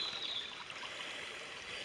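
A small stream flows steadily on a countryside walk near Rowberrow and Dolebury Warren, a soft continuous trickling rush, faint and close, with no voices.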